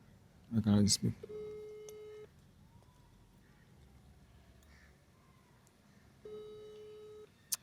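A telephone ringback tone sounds during a call, a repeated steady electronic beep heard twice with a long pause between, after a brief burst of voice at the start.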